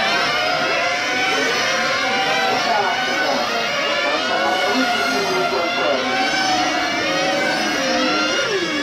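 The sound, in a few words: 1/8 scale on-road RC race car driving at full throttle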